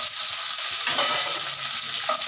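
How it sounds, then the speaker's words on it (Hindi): Chopped ginger and seven or eight garlic cloves fry in hot oil in a pan, giving a steady, close hiss and sizzle with a little stirring. "7 से 8 कलियाँ हमारे पास है लहसुन का, डाल देंगे। इसे थोड़ा सा भून लेते हैं।"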